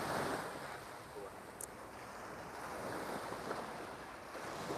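Surf washes steadily onto Hua Hin Beach in Thailand, a continuous broad roar of breaking waves with wind buffeting the microphone and no clear talk.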